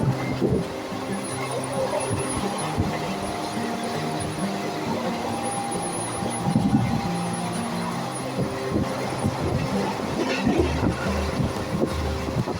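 A sleeper-class passenger train speeds toward Bardhaman on the Kolkata to Banaras route, with a steady close rumble and rattle from inside the carriage, continuous and loud over twelve seconds.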